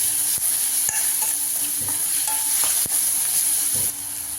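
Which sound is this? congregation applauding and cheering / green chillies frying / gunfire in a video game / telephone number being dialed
green chillies frying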